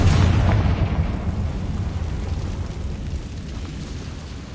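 A Confringo spell explosion in the video game Hogwarts Legacy, a single deep rumbling blast that booms loudly at the start and then decays into a long fading roar.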